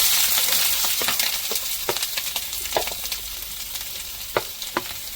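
Freshly cut onions drop into hot oil with curry leaves for Mangalorean mussels sukka, raising a loud hissing sizzle that fades slightly as sharp ladle clicks and scrapes tap through the stirring.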